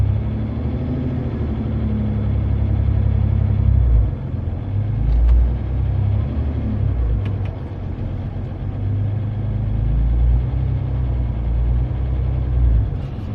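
A Ram EcoDiesel pickup idles and rumbles steadily up close while backing up to hitch a 4500 lb trailer, a loud low engine drone with slight surges and a few faint clicks.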